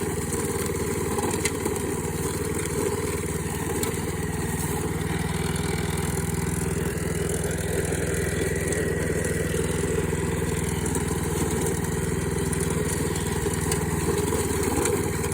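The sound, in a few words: lawnmower with cable instead of blade running over debris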